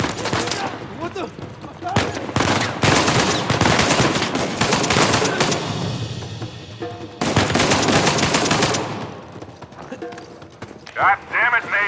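Dense bursts of video game gunfire in Uncharted: Legacy of Thieves Collection, loud and sustained in rapid volleys with brief pauses, mixed with other game action sounds.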